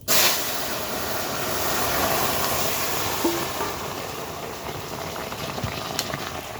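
Vegetable curry hitting hot mustard oil with whole cumin seeds, setting off a loud, steady sizzle that starts abruptly and holds as a broad hiss before easing slightly, with no talking.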